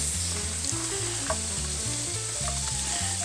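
Peppers, onions and garlic sizzle loudly and steadily in a small saute pan, a dense continuous frying hiss close up with a low rhythmic hum underneath and no talking.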